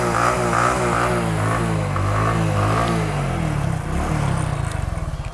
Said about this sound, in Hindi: उस तेल की वजह से अभी बाइक स्टार्ट है। अब रेस देते हैं